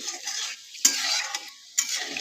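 Dried red chili and five-spice seeds fry in hot oil in a wok, giving a steady close sizzle with a few sharp spikes as the spices crackle and pop. No one speaks.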